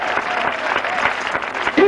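A church congregation claps together in a steady burst of applause, loud and close, with voices mingling underneath.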